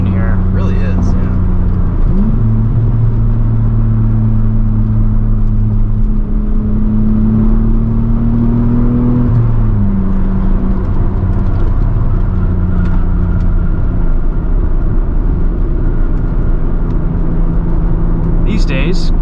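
A 1995 Ford Probe GT with a 5-speed manual gearbox drives along, its engine humming loudly from inside the cabin, rising and settling as it pulls through a gear change, with people talking over it.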